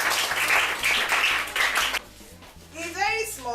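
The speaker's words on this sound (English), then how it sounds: "A lot of applause." Applause and clapping from an audience at an International Day of Street Children event, a steady burst of hands for about two seconds, then dropping away as a voice speaks.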